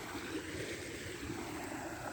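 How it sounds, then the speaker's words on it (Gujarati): Canal water flows through a village just after rain, a soft, continuous rushing wash that holds steady and faint throughout. "એ મિત્રો કેનાલનું પાણી આવે છે"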